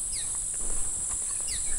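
Sparrows calling near a river on a dirt track: two brief, faint descending chirps, one near the start and one near the end, sitting under a loud steady high-pitched insect drone and outdoor background noise.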